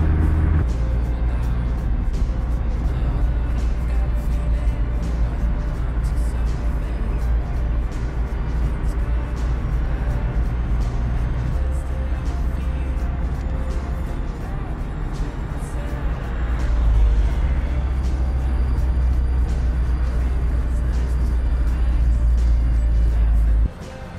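A Mazda Roadster driven by a woman with hand controls on the Venus Line mountain road, heard as a steady close engine and road rumble that continues without a break, with brief talking over it.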